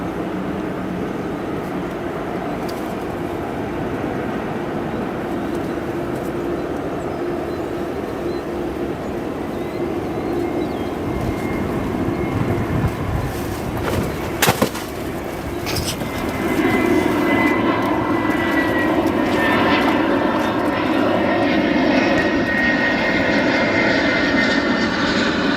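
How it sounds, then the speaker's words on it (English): An Atlas Air jet departs O'Hare on runway 9 left, a sustained engine roar that swells in loudness and brightness as it spools up and rolls out, continuous and near. "he'll still be departing on 9 left"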